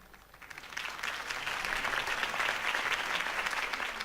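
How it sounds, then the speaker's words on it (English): Crowd applause from a political rally audience in the Batman Telltale Series video game, swelling within the first second into sustained, dense clapping that holds steady to the end with no talk over it. "If only Mr. Wayne, my campaign's largest backer, could have heard that applause"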